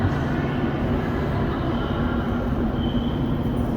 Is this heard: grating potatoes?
no